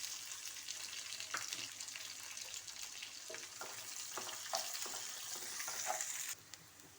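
Onions fry in a pan with tempering seeds for a brinjal and chana dal curry, giving a steady soft sizzle with occasional stirring clicks, no talk.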